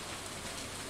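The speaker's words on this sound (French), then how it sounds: "Ah oui, la sacro-sainte pluie." Steady rain falls in Stardew Valley as a dense, even hiss of drops, continuous and fairly loud throughout, with no voices.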